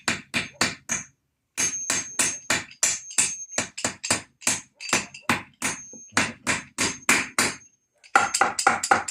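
Hammer driving U-nails into a corrugated iron raised garden bed, dozens of sharp ringing metallic strikes in quick steady runs with a short pause, close and loud with no talk.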